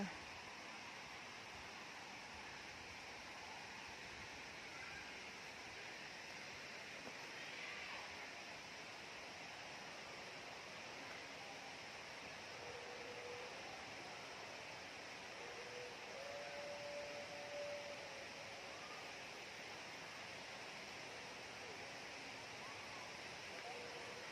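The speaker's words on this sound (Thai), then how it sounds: "เราได้ยินเสียงน้ำตกด้วยนะคะ" A distant waterfall rushes in a faint, steady wash of white noise throughout, with a few soft background sounds drifting over it, at the ten-tiered Wang Kan Lueang waterfall.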